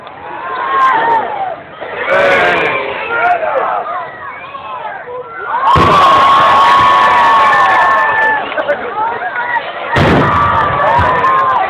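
A pyrotechnic wall-of-fire blast at an air show bursts out loud and booming, with a large crowd cheering and shouting around it and people talking nearby.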